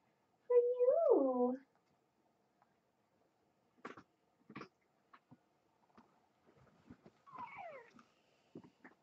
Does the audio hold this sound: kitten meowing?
yes